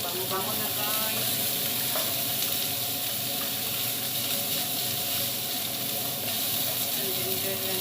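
Ginger frying in a pot as the start of a lamb leg soup, giving a loud, continuous sizzle and hiss with faint stirring scrapes, close and steady throughout.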